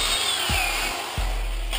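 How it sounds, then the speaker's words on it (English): A power drill fitted with a circle bit cuts holes through a bass trap panel, giving a steady close grinding whine with brief pulses. "when you put on the circle bit on the drill, it'll cut right through and it'll make you those circles nice and easy"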